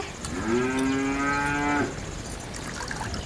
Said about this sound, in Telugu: దూడ అరుస్తూ ఉండేదండి